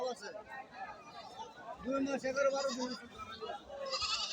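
A large goat bleats a few times amid a crowd of people chattering nearby at a busy outdoor livestock market.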